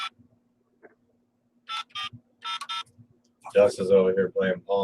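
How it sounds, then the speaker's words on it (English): Short telephone dialing tones from a phone placing a call, a few brief beeps in quick succession, then people talking over them. "that was the phone dialing"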